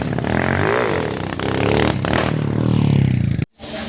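Modenas Kriss 110 motorcycle accelerating hard in a pick-up test, a loud, continuous engine roar that rises in pitch over about three and a half seconds, then cuts out abruptly before resuming briefly.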